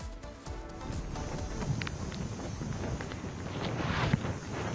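Strong wind from Cyclone Dana on the Indian coast, a steady broadband roar buffeting the microphone continuously, with slight gusts swelling toward the end.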